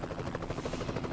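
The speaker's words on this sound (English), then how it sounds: "Chopper." A helicopter in the video game House of the Dead: Overkill beats loudly and close, its dense rapid rotor chop filling the short stretch without pause.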